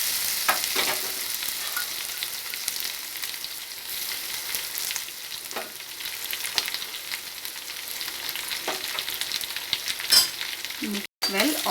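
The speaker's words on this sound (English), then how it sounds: "mix well all the ingredients. Let them fry for 2 to 3 minutes." Cashews and capsicum frying together in a pan while being stirred and mixed, giving a steady soft sizzle with intermittent scraping strokes of a spoon, close and fairly quiet, with a brief gap near the end.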